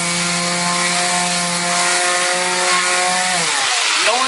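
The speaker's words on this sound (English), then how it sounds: "I'm going to continue sanding" A power sander works over a damaged drywall repair, giving a steady, close motor whine with a rough scraping texture that droops in pitch near the end.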